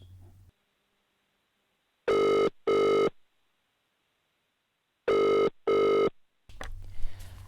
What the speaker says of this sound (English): I've tried again to phone Jerry the plumber to get it sorted.